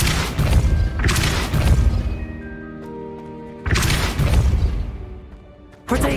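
Depulso spell blasts in Hogwarts Legacy land as heavy booming impacts, two main surges with ringing tonal tails between them and a fresh hit at the very end.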